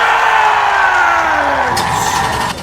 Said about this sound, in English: And we've got the engines fired here at Daytona.